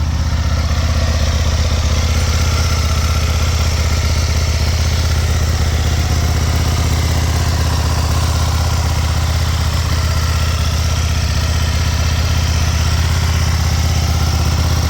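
An Aprilia RSV1000 Mille motorcycle engine idles steadily, loud and close, its deep even throb running unbroken throughout with no talking.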